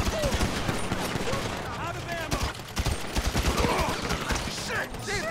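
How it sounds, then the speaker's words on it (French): Rapid gunfire in the game GTA V, dense bursts of shots crackling continuously and loudly, with a short lull midway before the firing resumes. "Il tire."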